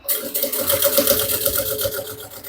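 A sewing machine stitches bias binding onto a tartan backpack, a fast, steady mechanical whirring with rapid rhythmic needle clatter, close and loud, running continuously throughout.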